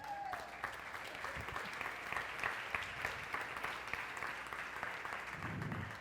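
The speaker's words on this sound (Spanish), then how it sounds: "Dese un aplauso, lo felicito." A church congregation gives steady, moderately loud applause that runs continuously from start to finish, with a low thump near the end.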